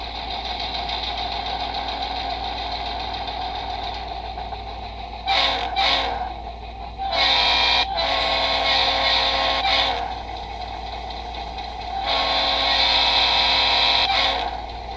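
An HO scale model locomotive's sound decoder plays diesel engine rumble and idling through two doubled iPhone 5 speakers, a steady engine drone with louder revving surges and brief bursts.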